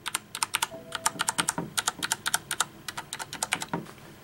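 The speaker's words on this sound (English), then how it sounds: "mechanical keyboards are a little bit louder than cheaper ones" Typing on a Corsair Strafe mechanical keyboard with Cherry switches, a brisk irregular stream of sharp clicky keystrokes, close and distinct, with no talk.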